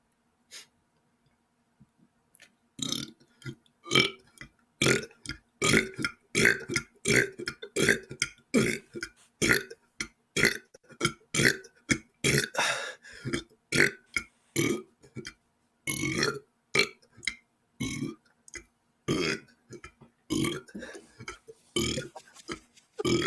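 A long series of loud, close burps, some quick and some drawn out, in rapid succession after a brief quiet start, with breathing between them.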